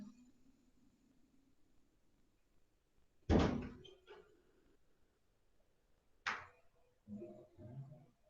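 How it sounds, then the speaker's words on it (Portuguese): A door slams hard once, with a loud sharp bang and short rattle, then a second, lighter slam a few seconds later, followed by faint voices in a quiet room. "Uma porta, hein?"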